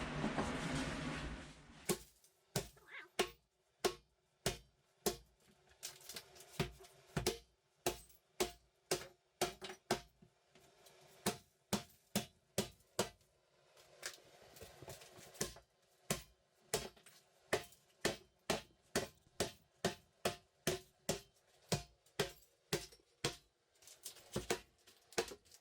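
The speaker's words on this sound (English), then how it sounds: "I have a special bathtub removing tool. Sledgehammer." A sledgehammer smashes a cast iron bathtub during a bathroom demolition, dozens of sharp metallic blows landing in a steady, uneven rhythm with brief pauses, heard alone without talk.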